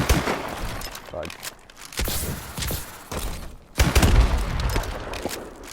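Bursts of automatic fire from the NA-45 Screamin' variant in Call of Duty: Advanced Warfare, sharp gunshots in irregular clusters over game noise, loud and close with a heavy burst near the end.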